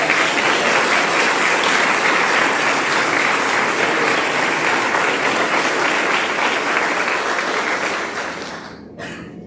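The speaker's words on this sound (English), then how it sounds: "let's give these outstanding, courageous, and brave seniors another round of applause" A school assembly audience at a senior awards ceremony gives a loud, sustained round of applause for graduating seniors, with dense steady clapping that fades out at the end.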